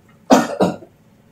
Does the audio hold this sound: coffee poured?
no